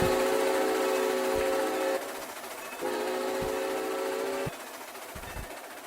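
A Santa Fe 3751 steam locomotive speeding along in the RO-Scale Sandbox game, sounding two long steady whistle blasts separated by a gap, over a rumbling run with occasional low thuds, fairly faint.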